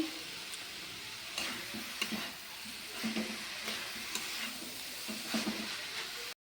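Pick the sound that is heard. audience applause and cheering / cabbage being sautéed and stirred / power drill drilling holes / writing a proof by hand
cabbage being sautéed and stirred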